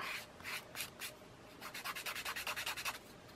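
Sandpaper rubbed against a surface, a few slow scratchy strokes followed by a quick run of rapid back-and-forth rasps, close and fairly quiet.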